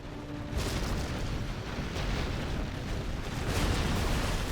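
Rumbling artillery explosions in Command & Conquer Generals Zero Hour, with a dull boom starting the barrage and heavy, muffled blasts rolling on continuously at a moderate distance.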